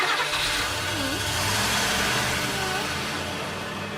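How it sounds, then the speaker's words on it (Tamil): A van engine runs steadily at mid pitch, close and fairly loud, with a slight rise as if starting up and pulling away, and no talk over it. "வண்டி எடுங்கடா."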